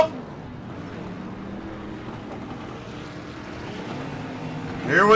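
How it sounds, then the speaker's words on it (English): C12 street stock race cars rev their engines at Daytona. The sound is a steady, blended engine drone heard at a distance, with a sharper rise at the very end. "They are revving them up."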